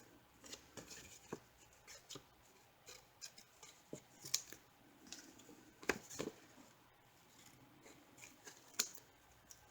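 Scissors snip through paper while cutting a 6 by 2.5 inch pocket for a chunky 6x6 mini album, a series of quiet, close, irregular crisp snips and rustles with no talking.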